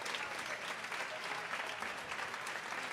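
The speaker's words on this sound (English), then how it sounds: "She gets a standing ovation here" Dense, sustained applause fills a high school basketball gym as the home crowd gives an injured senior player of Coalgate or Tushka a standing ovation.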